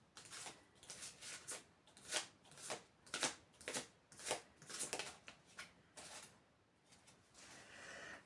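Oracle cards are shuffled, drawn and turned over during a reading, making a run of soft, quiet papery flicks and slides in an irregular rhythm, close up.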